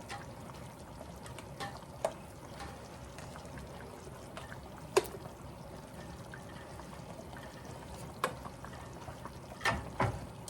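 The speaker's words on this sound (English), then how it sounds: "just keep adding your water. Just keep adding it. A little bit at a time." Water poured into cornmeal for hot water cornbread, a soft, steady trickling pour with a few sharp clinks and taps from stirring, close and fairly quiet, without voices.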